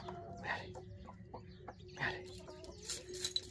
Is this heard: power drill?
no